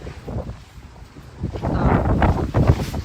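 Wind gusts outdoors in a garden, buffeting the microphone in low rumbling bursts that grow stronger after the first second and stay loud and close.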